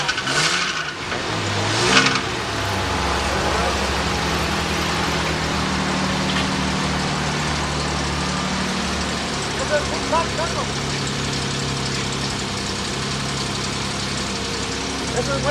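A Mercedes car engine runs steadily while driving around the block, a continuous mid-low hum with occasional revs, with people talking over it throughout.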